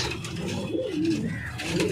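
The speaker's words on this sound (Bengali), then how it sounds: "এই হচ্ছে একটা পায়রা দেখো" A pigeon coos softly in a low, rolling murmur, recorded at a home pigeon loft, with faint background noise and no voices.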